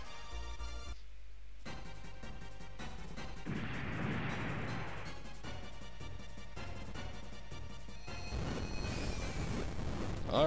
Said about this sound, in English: might as well shift your base of fire and open up with your missiles